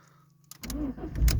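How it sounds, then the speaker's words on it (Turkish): A Fiat Marea's starter cranks briefly and the engine catches into a rumbling idle, heard close and loud right after a quiet moment of faint hum. "arabamıza aracımıza bir ilk marş yapalım"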